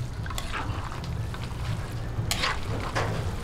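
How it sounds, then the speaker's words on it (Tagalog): Pancit sotanghon guisado, glass noodles in broth seasoned with pepper and fish sauce, being stirred in a pan, with a steady simmering sizzle and a few soft scraping strokes, all fairly quiet and with no talk. "ngayon atin na pong haluin"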